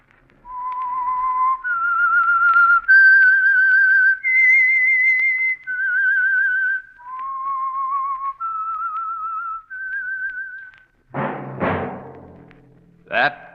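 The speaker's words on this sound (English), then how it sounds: "That whistle is your signal for the Signal Oil program, The Whistler." A lone whistler carries the melancholy theme of the radio drama The Whistler, a slow series of clear sustained notes stepping up and down, followed by a few short sharp sounds at the end.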